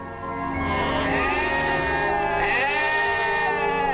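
A flock of sheep on an Australian outback station bleating steadily, many overlapping wavering calls rising and falling together, loud and continuous throughout.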